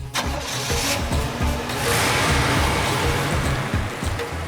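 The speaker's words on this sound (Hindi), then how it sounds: "चलो गाड़ी चलाओ।" A car engine cranks and catches, then runs steadily and builds as the vehicle pulls away, loud and close with no talk over it.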